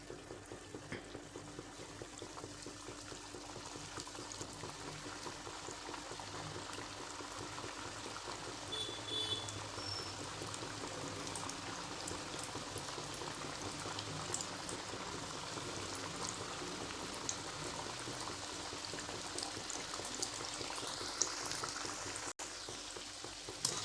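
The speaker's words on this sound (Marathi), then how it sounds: "तर दुसरी बॅच पण टाकायची आपल्याला" Wheat-flour shankarpali frying in hot oil, a steady dense bubbling sizzle that holds evenly throughout at moderate loudness, close and continuous with no voices.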